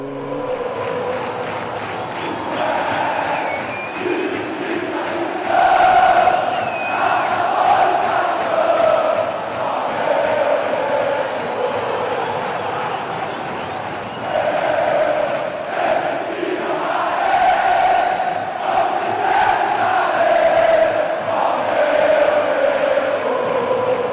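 Flamengo supporters at the Maracanã stadium chanting the victory anthem, a huge crowd singing in sustained waves, loud and continuous throughout.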